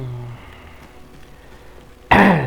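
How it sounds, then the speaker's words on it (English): A man clears his throat once, a short loud rasping burst near the end after quiet game-world background ambience from Avowed in a spider-infested mine. "Gotta clear my throat here."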